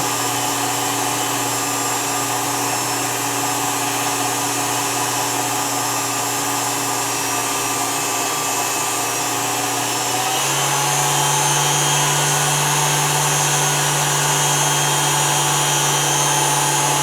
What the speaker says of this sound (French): On ralentit un peu le batteur et on verse doucement sur les blancs, pas sur la cuve.